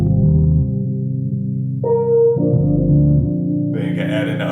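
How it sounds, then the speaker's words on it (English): Bass line layered with a Rhodes electric piano sample from a Cali Rhodes pack, loud and close, with sustained chords, a higher note entering midway and brighter accents near the end; no talk. "when you join the bass line along with the sample from the Cali Rhodes pack"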